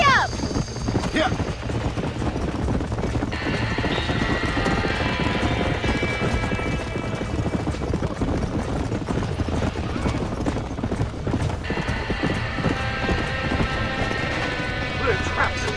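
Horse hooves clip-clop rapidly in the Red Dead Redemption video game during a burning-barn mission, a continuous rhythmic galloping under game music, with brief voices.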